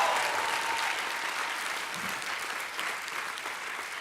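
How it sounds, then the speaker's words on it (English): Graduates at a university class day ceremony give sustained applause, a dense, even wash of many clapping hands from a large crowd that holds steady throughout, with faint voices mixed in. "Give yourselves a round of applause."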